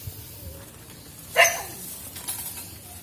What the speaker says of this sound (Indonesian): ada suara guguk